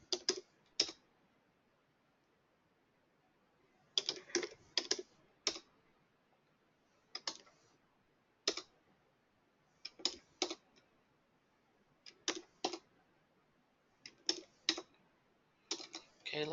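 Sparse clusters of crisp computer keyboard keystrokes as a password is entered, coming in short bursts of a few clicks separated by pauses, close and fairly quiet.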